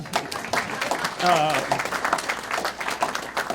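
Audience applause at a sports hall of fame induction ceremony in Midland County, a steady patter of clapping with a voice rising briefly over it partway through.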